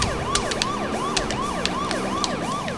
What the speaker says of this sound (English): let's not forget to use the sirens.